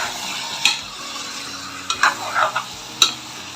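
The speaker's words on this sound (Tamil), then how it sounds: "மேரினேட் பண்ணி வச்ச மட்டனை சேர்த்துருவோம்." Marinated mutton is stirred into a frying paste of onion and green chilli for white mutton kurma, with a steady close sizzle under a few scraping spoon strokes and clinks against the pan.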